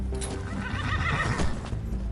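A horse whinnies in the cyberpunk video game CEO Sim, a clear close neigh that rises over the steady clip-clop of its hooves, heard alone without talk.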